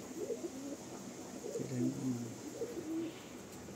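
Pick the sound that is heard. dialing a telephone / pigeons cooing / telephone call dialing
pigeons cooing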